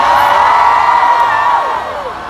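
A concert crowd at an outdoor music festival show cheers and screams loudly, a dense sustained wall of high-pitched whoops and yells that tapers off toward the end.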